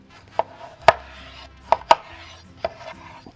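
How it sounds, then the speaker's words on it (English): A knife quartering tomatoes on a cutting board, five or six sharp, irregular chops close up, with quiet gaps between strokes and no talk. "we're gonna just quarter all these tomatoes"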